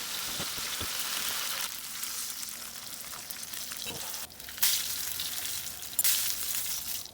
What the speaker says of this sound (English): I'm gonna put some oil in it. And then we're just gonna fry these on all sides